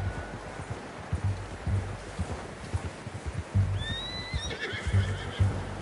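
Within the Red Dead Redemption 2 game, a horse gives a loud whinny near the end, heard over steady clip-clopping hooves and rustling movement close by.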